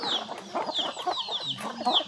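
Several hens cluck and chatter close by on a farm, overlapping short calls in an uneven rhythm throughout the brief moment, with no talking.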